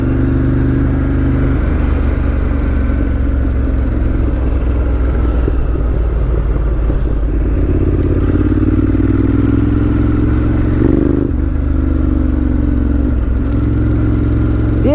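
A 2018 Ducati Monster 1200S ridden along a small road, its engine a loud, steady close rumble with mild surges in revs and constant wind buffeting, no talking over it.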